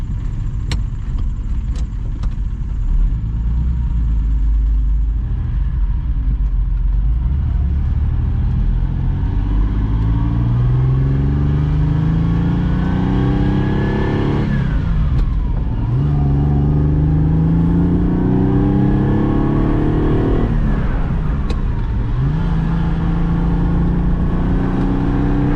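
Ferrari Dino engine fitted with MSD ignition, idling steadily and then rising through two clear revving sweeps before dropping back, loud and close throughout with no talking.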